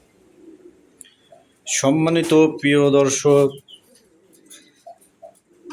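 Pigeons at a pigeon farm give soft, low cooing calls, faint and scattered before and after a short stretch of someone talking close by.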